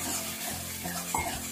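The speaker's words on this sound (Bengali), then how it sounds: "জল দিয়ে দিলাম মশলাটা কষার জন্য।" Spice paste sizzling in a pan after water is added while cooking a Bengali chhanar dalna, a soft steady crackling hiss with light stirring scrapes, close and alone.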